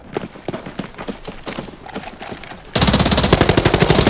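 Rapid P90 submachine gun fire in Arena Breakout Infinite, a dense sustained burst starting abruptly midway and staying loud, after scattered distant shots and movement noise.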